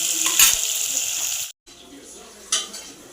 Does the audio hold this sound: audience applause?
no